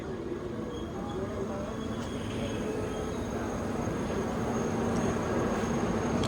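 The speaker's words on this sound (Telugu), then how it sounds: "మన డబుల్ డెక్కర్ ట్రైన్ అయితే వచ్చేసింది" A double-decker express train pulls into a station, a steady broadband rumble and rolling rail noise holding close throughout with faint voices in the background.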